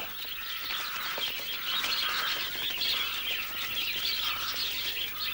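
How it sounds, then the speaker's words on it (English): A dense chorus of many small birds chirping and twittering together, a constant bright flock chatter with possible wing flutters, steady and fairly close in a storybook setting. "Birds came from everywhere."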